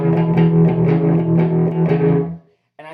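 An electric guitar runs through a Lovepedal Blue Wave tremolo pedal, sustained chords pulsing in a steady rhythmic throb for over two seconds, then ringing out and fading into brief silence before another note starts.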